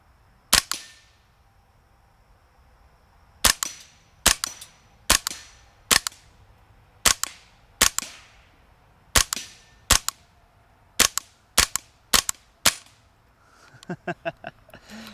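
A suppressed AR22 rifle fires about thirteen sharp, cracking shots at night, irregularly spaced and close, followed by a few softer mechanical clicks at the end.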